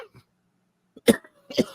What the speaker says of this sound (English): I can't get over this fucking cough